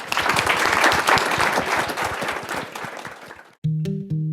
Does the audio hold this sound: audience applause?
yes